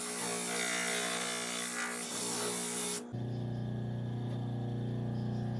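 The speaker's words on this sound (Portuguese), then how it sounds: "a lixa mais grossa é para desbaste" Coarse sandpaper rasping steadily across the top of a wooden piece, a loud, close scratching stroke that runs for about three seconds before stopping, with a steady hum continuing afterward.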